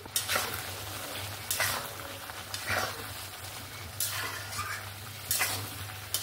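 Potato, pointed gourd and soybean pieces being stirred into a cooked-down spice mix in a pan, with a spoon scraping in slow repeated strokes over a steady low sizzle; no talking.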